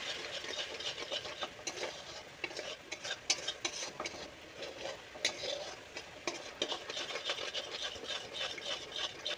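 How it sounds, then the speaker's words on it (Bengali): Bottle gourd tamarind curry with turmeric and chili powder being stirred in a pot, a continuous close rasping scrape of the spoon over the bottom with faint sizzling beneath, fairly quiet. "এটাকে ভালো করে নাড়াচাড়া করব"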